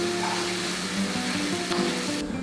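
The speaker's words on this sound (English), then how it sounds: "Now stir around the buldak sauce on the pan." Buldak sauce sizzles loudly in a hot pan and is stirred, giving a continuous crackling fry with light scraping from the stirring throughout.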